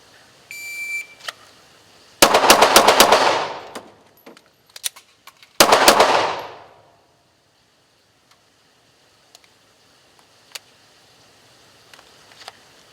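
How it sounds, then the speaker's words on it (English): A handgun fires two close, loud bursts of rapid shots a few seconds apart during a timed training drill, with a short reload pause between them and a high electronic timer beep at the start, then mostly quiet with faint clicks. "Now we are going to work 4 rounds, reload, fire 2 rounds."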